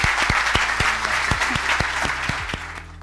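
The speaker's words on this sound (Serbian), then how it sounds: "molim vas, pozdravite velikim aplauzom Vuka Mijanović" An audience at a live corporate talk event applauds to welcome a new executive board member, a dense, steady round of clapping that lasts a few seconds, with a few sharp individual claps standing out.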